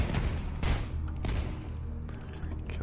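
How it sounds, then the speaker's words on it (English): Rapid gunfire in the retro shooter game DUSK: a quick series of sharp, close shots with metallic clatter, loud and without talk. "You spam murder shots."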